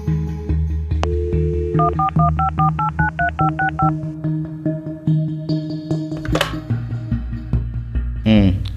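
A telephone number is keyed in as a quick run of distinct keypad tones, over a steady low background hum, in a Telugu short film scene where a character places a call.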